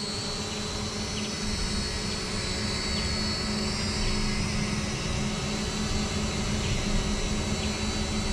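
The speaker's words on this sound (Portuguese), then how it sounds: "Drone. Ele tá oscilando porque eu tenho que configurar o GPS dele ainda." A small drone hovers and wobbles nearby outdoors because its GPS is not yet configured, giving a steady insect-like buzzing whine that holds level throughout with no talking.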